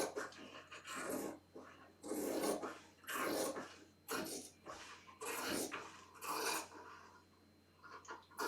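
Scissors trim the seam allowance of a horsehair braid hem on a skirt lining, a series of soft, close, rasping snips in irregular bursts, faint overall.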